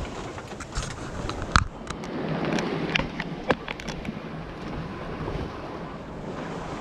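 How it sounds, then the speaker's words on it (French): Steady wind buffets a sailboat under sail at sea in about 15 knots of apparent wind, with rushing water and a few sharp knocks and creaks on board. "on a 16 nœuds, enfin 15 nœuds de vent apparent et on marche, fantastique, à 5 nœuds et demi"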